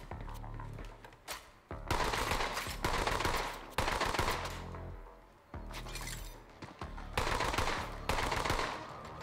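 Borderlands 3 gunfire crackling in repeated bursts of rapid automatic fire, each lasting a second or two with brief gaps between, dense and close with sharp impact and shattering sounds mixed in.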